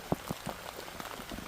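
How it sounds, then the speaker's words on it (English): Rain falling on a garden plot in September, soft scattered drops tapping leaves and soil with a few sharper near plinks over a faint steady patter, quiet and close. "even in all this rain"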